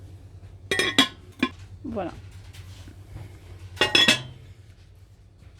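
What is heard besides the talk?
clinking of dishes, soup tureen set in shop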